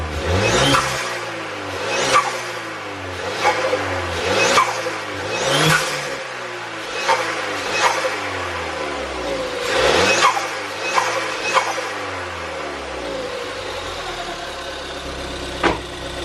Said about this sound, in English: I'll get some proper revs in, but for now I'm just going to make sure everything's all good